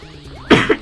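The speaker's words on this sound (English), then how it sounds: "Sorry, I don't mean to cough." A single close, loud cough burst into a game session, a harsh double hack following a faint in-game tone.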